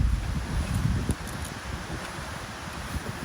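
Steady broadband wind noise buffeting the microphone, with low rumbling gusts and faint rustling throughout.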